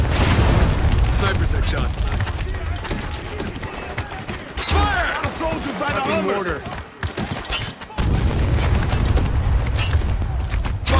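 Heavy booming blasts and rolling impacts from mortar fire in the war game Spec Ops: The Line, loud and dense over a battle din, with a voice speaking briefly amid the explosions.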